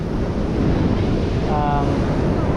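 Sea breeze buffeting the microphone with waves washing onto a Pacific Ocean beach at Dingalan, a continuous broad rushing roar, with a faint brief tone partway through.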